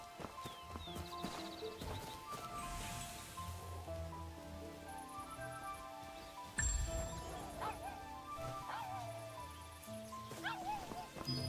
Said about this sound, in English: The dog is following me just so it can bark at me.